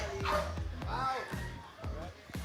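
A dog gives a few short yips and barks close by, mixed in with lively talk and voices in a crowded house during a barangay visit.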